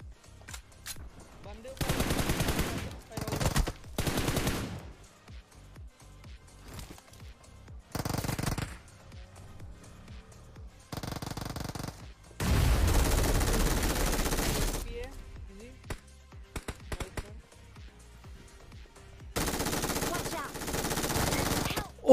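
Automatic rifle fire in the mobile battle royale game BGMI comes in loud, sustained bursts and long sprays with quiet gaps between them. Short single shots are scattered throughout.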